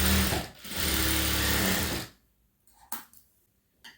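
A sewing machine stitching a boat neck blouse runs in a loud continuous whir for about two seconds, then stops, leaving a few faint clicks.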